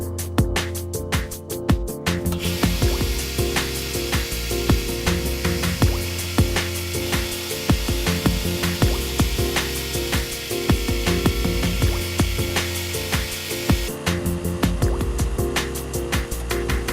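A belt sander rounding the corners of small pallet-wood coasters, a steady loud whine and grinding hum running throughout, with rapid rhythmic rasping as the wood is pressed against the belt.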